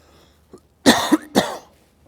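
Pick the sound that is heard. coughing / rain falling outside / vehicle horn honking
coughing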